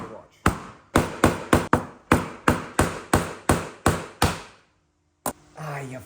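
A chisel is struck repeatedly with a hammer against PVC pipe for a hydroponic rail, about a dozen sharp, evenly spaced knocks close by, then a pause and a voice.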